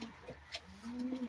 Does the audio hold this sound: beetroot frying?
no